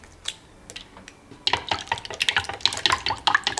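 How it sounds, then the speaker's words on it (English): Three eggs for Japanese tamagoyaki are whisked in a bowl, a quick run of light clicking, tapping strokes with wet sloshing that starts sparse and then turns rapid and busy, close up, with no voices. "Collect 3 eggs, whisk them together until you reach the uniform yellow color."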